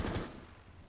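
Close, dense automatic gunfire from a Rainbow Six Siege match, a rapid burst that stays loud and continuous for the whole moment.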